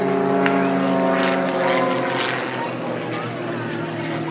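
Propeller aerobatic aircraft flying a close-formation pair at the Southport air show, with a steady, loud engine drone that swells and fades slightly as they pass, while a commentator talks over it.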